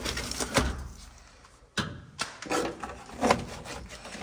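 Old rubber door seal being ripped off a 1972 bumpside truck: a few scattered tearing and thudding bursts separated by quiet gaps, close by, with no talking.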